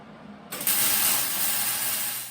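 Ratchet tightening a bolt on a homemade bracket fitted to a kid's go kart, a steady hissy clicking run that starts abruptly and continues near the microphone for about two seconds, with no talk.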